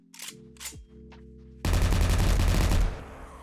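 A 5.56 rifle from a weapons pack in 7 Days To Die lets off a loud, dense automatic burst of about a second after a few quiet mechanical handling clicks, then the shots ring off and fade.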